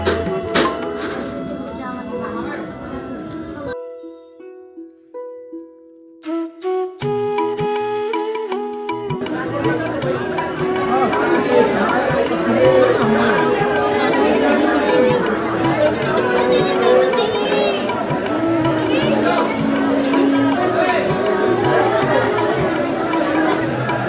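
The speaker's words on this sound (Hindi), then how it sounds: "भीड़ देखो यहाँ पे कितनी है" A dense crowd of pilgrims in Barsana on Dev Uthani Ekadashi fills the air with loud, constant overlapping chatter and bustle, after a brief stretch of a tonal jingle and a quiet pause.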